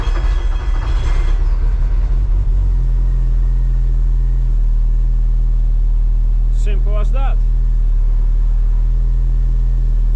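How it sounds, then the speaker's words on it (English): A Toyota MR-S with a 1.8-litre turbo engine idles with a loud, steady low rumble after a brief starting burst, while someone speaks briefly over it. "I guess we'll see if the car starts"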